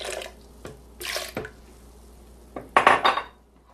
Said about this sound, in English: we're going to add another half a cup of water